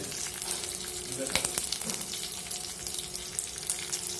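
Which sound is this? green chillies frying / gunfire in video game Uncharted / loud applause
green chillies frying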